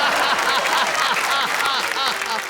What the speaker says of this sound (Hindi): ऐसी तालियां बजी तो और जोश आ गया